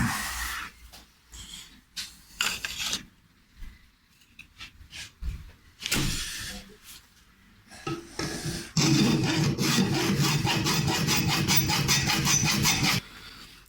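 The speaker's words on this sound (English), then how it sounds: "just file it and then sand it so that it is a pleasing shape" Rough, steady rasping of a hand file on a copper pickup ring, starting as scattered strokes and then settling into continuous fast scraping up close.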